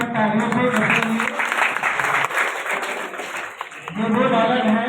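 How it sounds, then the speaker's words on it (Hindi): Audience applause at a school ceremony honouring district students, a steady loud clapping mass that swells, dips mid-way and returns strong, with a voice talking over parts of it. "बच्चों का उत्साहवर्धन तालियों से करेंगे"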